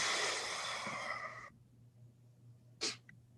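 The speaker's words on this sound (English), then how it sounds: "Yeah, I had to sneeze." A single sharp sneeze from a man bursts out near the end, following a few seconds of soft breathing and faint background hum.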